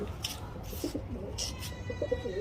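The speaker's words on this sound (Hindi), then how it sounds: "उसका कबूतर भी आपको देखने को मिलेगा।" Soft, low pigeon coos repeat in short murmuring phrases over a faint background hiss, with a few brief higher chirps in between.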